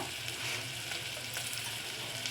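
Ginger paste frying in a pan, a dense continuous sizzle with a bubbling crackle, close and steady for the whole short stretch.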